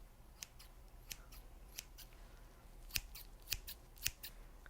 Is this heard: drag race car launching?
no